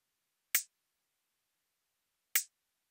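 Two crisp, short closed hi-hat ticks from an EDM drum kit in BandLab, bright and dry, spaced well apart against complete silence.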